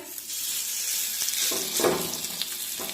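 Cabbage pancake batter sizzling in a hot frying pan, a moderate crackling hiss that rises with a brief louder burst midway, heard alone without speech.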